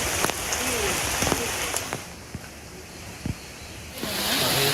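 Heavy rain drums steadily on a surface, a dense continuous hiss with scattered louder drops and splashes close by.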